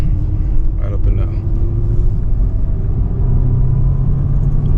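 A car engine hums in a steady low rumble while driving during a skip-shift test run, a continuous cabin drone that stays even throughout, with someone talking over it.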